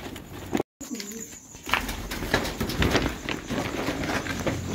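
Pigeons released from a truck cage, wings flapping and bustling in a brief burst after a short gap, with faint cooing and outdoor commotion around them.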